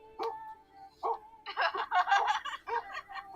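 A small puppy gives a quick series of high, yappy barks and yips, close and moderately loud.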